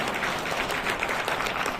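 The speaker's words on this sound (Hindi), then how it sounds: "एक बार रविशंकर जी के लिए भी तालियां बजा दो आप।" Audience clapping at an auto and taxi union meeting in Delhi, a steady, fairly faint wash of applause that continues evenly throughout the short stretch without any talk.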